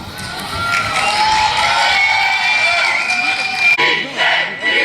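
A large crowd shouts and cheers continuously at the Vendée Globe sailing race podium, a dense, loud wall of voices with whoops rising near the end.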